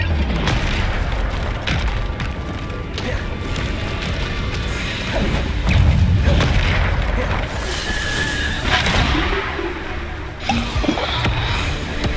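In the Hogwarts Legacy video game, loud booming blasts from Bombarda explosion spells mix with other spell effects. The battle noise is dense and continuous, and a voice is heard shouting over it.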